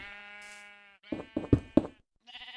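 Sheep in the Minecraft video game bleat in a burst of four quick, nasal calls, close by, following a steady held tone and ending with another bleat.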